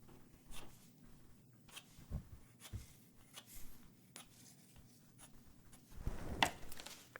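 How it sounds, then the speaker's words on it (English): Pen or marker scratching hemline marks onto muslin fabric for a taped sloper fitting shell, a run of faint, close strokes with soft fabric rustles and a louder scrape near the end. "Writing hemline on the hemline."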